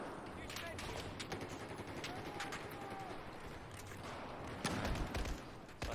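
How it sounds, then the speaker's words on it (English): Rapid gunfire bursts in a CTE video game match, sharp repeated shots layered over a dense, steady background of battle noise, with a louder cluster near the end. "Just getting that headshot."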